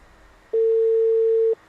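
A telephone tone sounds as a call is placed: one loud, steady electronic note lasts about a second, then cuts off, with quiet background before and after.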